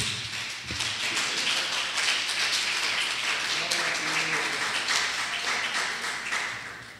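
A church congregation applauding during an evangelical service: dense, sustained clapping that fills the room evenly, then slowly tapers off near the end.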